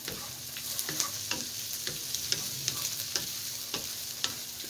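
Spaghetti sauce, pure with no added water, sizzles steadily in a pan while a utensil stirs it in regular scraping strokes, close and fairly loud, with no talking.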